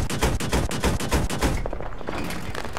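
Rapid bursts of gunfire ring out in a World War-style shooter game, a fast run of loud repeated shots for about a second and a half before trailing off into echoing reports.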